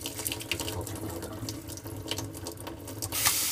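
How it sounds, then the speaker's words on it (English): Tap water pours steadily from a faucet fitted with a PUR water filter and splashes into a sink, with a continuous close rush broken by a few small irregular splashes and a brighter surge near the end. "Turn the hot water on."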